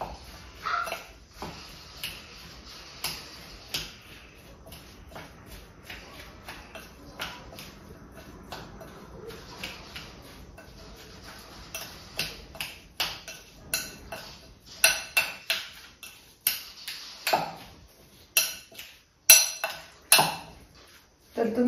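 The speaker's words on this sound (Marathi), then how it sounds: "आता मिक्स करून घ्यायचं." Avocado sandwich filling being stirred in a bowl with a spoon: scattered clinks and scrapes that start soft and sparse, then grow louder and more rhythmic toward the end, with no talking.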